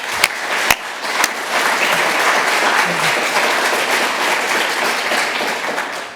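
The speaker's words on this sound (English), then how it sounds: "I think they need another round of applause maybe" A room full of people breaks into a full round of applause for the speakers at a rural business network event, steady dense clapping sustained throughout with a few sharper individual claps near the start.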